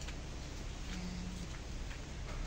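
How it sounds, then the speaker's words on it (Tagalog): Light rain falling on ferns and other garden plants, a steady soft hiss of drops throughout, fairly faint with no voices. "Medyo umulan na, hindi naman kasyadong kalakasan"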